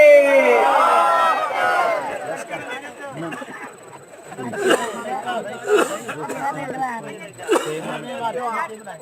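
A gathering at a religious sermon answers the takbir call, many voices chanting Allahu Akbar together in a loud, close burst, then scattered shouted repeats and murmurs follow in rhythmic waves.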